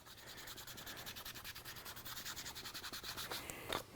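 A polishing pad spreads Diamond Gloss Super Finish polish over a paint surface, making a faint, rhythmic rubbing swish in close, even pulses.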